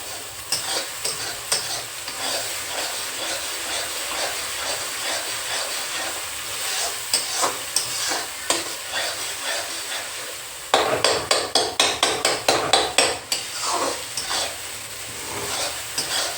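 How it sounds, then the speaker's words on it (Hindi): Matar paneer khoya curry masala frying in oil, a loud continuous hiss and sizzle with rapid spoon scraping and clanks that grow sharper near the end, close up and without talk. "तो इसको थोड़ा और भूनेंगे। जब तक तेल ना छोड़ दे तब तक सब्जी अच्छी नहीं बनेगी।"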